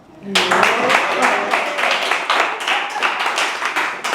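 An indoor audience at a mentalist's show at a yoga center applauds, dense sustained clapping that starts abruptly and carries on steadily at close range, with voices faintly underneath.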